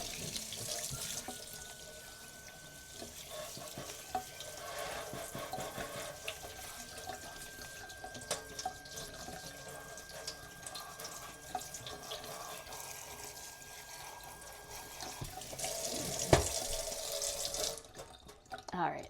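Tap water runs steadily into a sink while air filters are rinsed under it, a continuous splashing hiss with small bumps and handling noises throughout.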